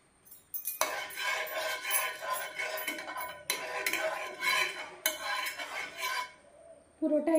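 Metal spoon scraping and clinking against a hot pan while spreading ghee, bursts of rhythmic scraping separated by short pauses, close and clear.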